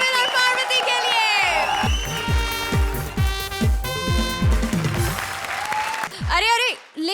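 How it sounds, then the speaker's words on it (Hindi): An audience on a TV comedy show claps for Kapil and Parvati, with loud applause blending into a brassy music sting with punchy drum hits. "जोरदार तालियां कपिल और पार्वती के लिए"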